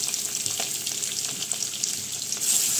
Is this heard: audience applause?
no